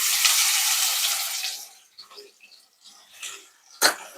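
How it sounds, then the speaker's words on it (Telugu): Cumin seeds and onions hit hot oil in a pan with a loud, steady sizzle that fades after a moment, followed by softer crackles, a few clinks and a sharp knock near the end. "నూనె గరంగానే జీలకర్ర వేసుకుందాం. ఉల్లిపాయలు వేస్తున్నాం."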